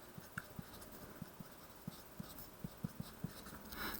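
A pen writes on paper, producing a series of quiet, evenly spaced scratchy strokes and taps, close and faint, with no talking.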